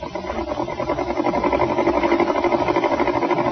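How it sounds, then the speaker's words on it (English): A sewing machine runs steadily at a close, even level, with a rapid rhythmic mechanical whir throughout and no talk. "Miss Winthrop, you heard the sewing machine just now."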